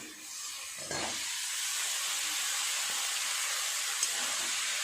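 Boiled banana flower dropped into spices frying in a pan for a Bengali mochar ghonto, bringing a loud, steady sizzle and hiss that holds from the first second to the end, with one small pop near the close.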